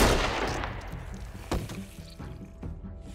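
Gunshots ring out in The Walking Dead: A New Frontier video game: a loud blast opens the moment, then a sharper crack follows about halfway through, each fading into a decaying tail.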